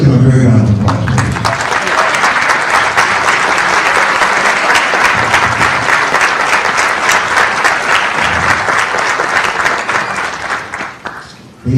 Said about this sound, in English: Let's give them a very round of applause, please.